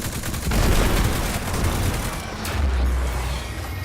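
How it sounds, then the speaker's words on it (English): Sustained automatic gunfire from an auto rifle in Destiny 2, a dense, loud burst of rapid shots running almost the whole time with a brief dip near the middle. "And this auto rifle now, with that magazine increase, I have 65 bullets in this thing right now."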